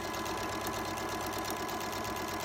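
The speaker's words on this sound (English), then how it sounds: "I'm going to do all the sewing first here on each row" A sewing machine stitches rows of a Shoo Fly quilt block, running in a continuous fast, even whir with a rapid needle rhythm throughout, close and steady with no voices.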